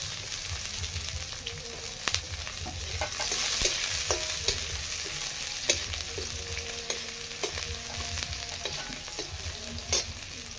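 Chopped onion frying in a pan for soybean paratha, with a continuous close sizzle and frequent clinks and scrapes of a spatula stirring, and no talking.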